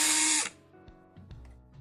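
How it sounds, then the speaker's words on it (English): Short burst of a power screwdriver removing screws from an iRobot Roomba E-series vacuum, a loud whir that cuts off after half a second, followed by faint clicks and handling. "I remove these screws"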